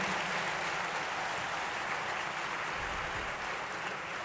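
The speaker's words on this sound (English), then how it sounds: "Please join me with a great round of applause to invite our Honorable Dr. Jaishankar, Ministry of External Affairs." Faint, distant applause from an audience at a university inauguration ceremony greets an arriving guest speaker, a steady wash of clapping heard from far back in a large hall.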